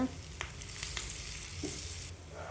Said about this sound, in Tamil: ஒரு கைப்பொடி கருவேப்பிலை போட்டு ஃப்ரை பண்ணிக்கோங்க